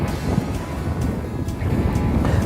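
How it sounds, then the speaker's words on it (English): Strong wind gusting across frozen Lake Winnebago during an ice fishing outing for walleye, a steady loud rush with low buffeting rumble against the microphone throughout, no talking. "The wind's starting to blow a lot harder"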